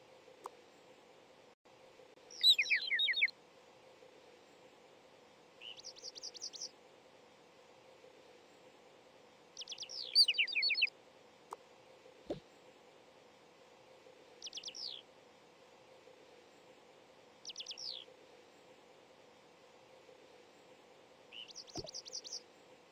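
Magical tune mimicking bird song in a Toca Boca video game: short bursts of bright, chirping trills repeat about every few seconds over a steady low hum, with no talking.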